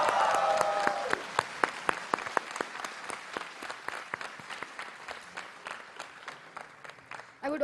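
Applause at the 14th convocation ceremony of IIT Hyderabad in Telangana, beginning as a dense burst that thins into scattered, separate claps fading over several seconds with no voices.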